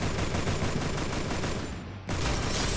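Continuous automatic gunfire in the Free Fire battle royale shooter, dense rapid bursts filling the clip, briefly cutting out near the end before resuming loud and close.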